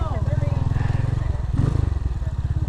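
A motorcycle engine idles close by with a steady, rapid putter, its pulses rising briefly in the middle, while someone talks over it.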